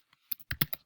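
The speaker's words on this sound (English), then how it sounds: "So I type the question here." A few quick keystrokes on a computer keyboard while a quiz question is entered, close and clear, in short uneven clusters with brief gaps between taps.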